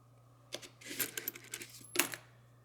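Metal coins, among them 50-cent pieces and silver dollars, clink faintly as they are handled and dropped onto a pile, with a few scattered jingles and one sharper clatter near the end.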